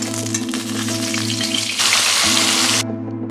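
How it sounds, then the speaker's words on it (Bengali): Fish frying in hot oil crackles and sizzles loudly and close, a continuous spitting hiss over a steady low hum, growing brighter midway before dropping off near the end; no one speaks. "তেল গরম হয়ে গেছে, মাছগুলো আমি ভেজে নেব"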